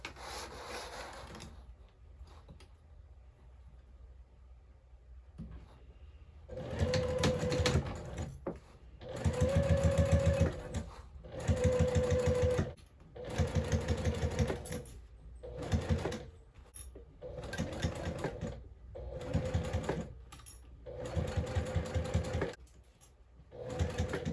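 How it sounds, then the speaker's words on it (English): A sewing machine stitches a 3/8 inch seam down and around a fabric bag, running in repeated loud bursts of rapid mechanical whirring with short pauses between, after a quieter stretch at the start. "now we can go ahead and get this sewed all the way down and around at 3/8 inch seam allowance"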